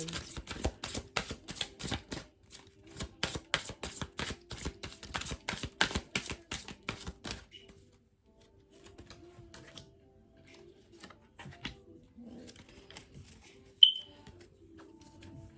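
Rapid papery riffling of tarot cards being shuffled, several quick bursts close up, followed by quieter handling and soft taps.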